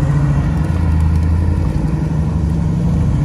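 A 1957 Corvette engine pulls away with a deep, steady low rumble heard up close inside the car, holding even throughout with no talking.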